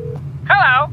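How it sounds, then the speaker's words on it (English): A telephone number is dialed in a silly veggie-story podcast, with a brief steady tone followed by a short warbling electronic beep, close and clear. "Just gotta dial their number."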